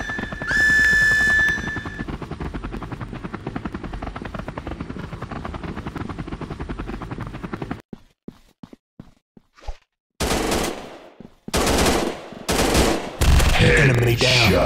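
Gunfire in an Android first-person shooter, rapid automatic bursts under a loud whirring helicopter, then after a brief quiet spell several dense, close bursts of firing in quick succession.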